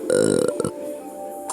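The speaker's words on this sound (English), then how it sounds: "I have to stop burping." A single loud, drawn-out burp opens the moment, lasting about half a second before fading into quieter sounds, heard in a game about a burping bacterium.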